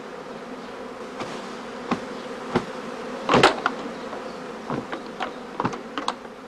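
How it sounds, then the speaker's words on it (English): Honeybee prime swarm packed into travelling boxes on a heathland swarming day, a steady close insect buzz with scattered sharper knocks and bursts, no talk. "During the course of each swarming day, the prime swarms are packed in travelling boxes."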